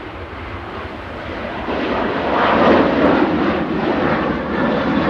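The engines of a Ryanair Boeing 737-800 at Manchester Airport roar as a broad, loud rumble that swells and peaks midway, then holds steady with no voices.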